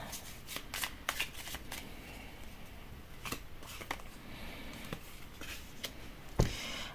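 Tarot cards shuffled by hand close up, a run of crisp riffling bursts and soft slaps repeating steadily, with no talk over them.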